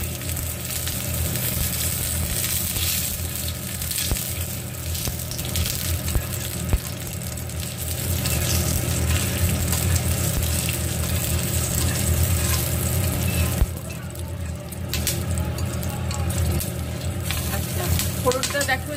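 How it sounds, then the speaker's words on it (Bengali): Nigella seeds, bay leaves and two dried red chillies sizzle steadily in hot oil for a Bengali tempering, a continuous close frying hiss with faint stirring and clatter, no talking. "এখানে ফোড়ন হিসেবে দিলাম কালো জিরে, তেজপাতা এবং দেব 2টো পাকা লঙ্কা"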